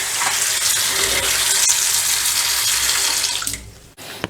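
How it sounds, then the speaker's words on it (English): Brahmi (pennywort) leaves being rinsed under a running kitchen tap, a loud continuous rush and splash of water close by that thins out and stops near the end, with no talking. "Now let us rinse it properly. I am going to rinse it like for 3 times and then it's ready to use."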